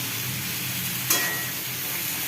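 Potato, sweet potato, broad beans and green chillies sizzle loudly in hot oil, a continuous close fry with a brief scrape of stirring partway through.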